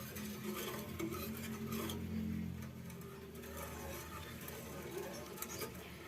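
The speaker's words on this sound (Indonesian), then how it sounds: "Diaduk-aduk sampai mendidih." A pot of sweet purple sweet potato candil mixture with vanilla powder and a pinch of salt is stirred until it boils, giving a steady close scraping and sloshing with light pot clinks.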